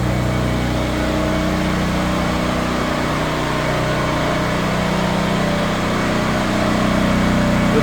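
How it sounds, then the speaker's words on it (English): Snowblower engine running at a steady loud drone close by, continuous throughout with no talk. "We're gonna test out the snowblower."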